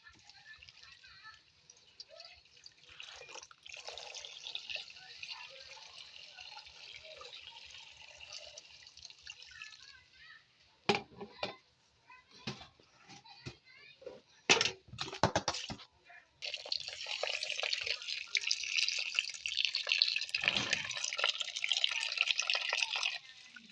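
Tap water runs and splashes while wolffia (khai nam) is rinsed and swished by hand, a steady hiss with bursts of dripping and sloshing, louder and fuller toward the end.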